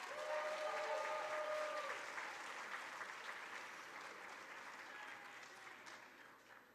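Parents and guests at a board of education student recognition ceremony applaud, moderately quiet but sustained clapping from a room-sized crowd that fades gradually, with faint murmuring underneath.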